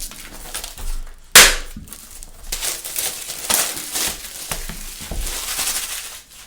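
Plastic wrapping being pulled off an Urban Apocalypse fire station model kit pack, a close crinkling and tearing with one sharp loud rip near the start and softer crackles after, no talk.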